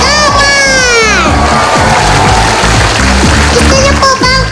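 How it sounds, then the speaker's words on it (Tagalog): A studio audience at the Eat Bulaga TV variety show cheers and shouts loudly and continuously, with children's voices rising through the dense crowd roar and a raised voice calling out near the start. "Palakpakan! Mas malakas pa!"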